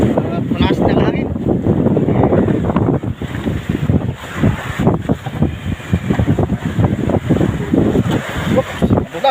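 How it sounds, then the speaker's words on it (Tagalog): Strong wind gusts buffet a small boat out at sea, a loud continuous roar with rumbling microphone buffeting and some splashing, heard up close with no clear talk over it. "Punas ng hangin."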